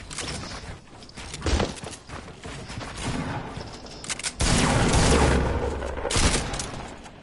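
Video game squad match with sustained gunfire, rapid bursts and a heavy stretch of shooting midway through, loud and dense throughout.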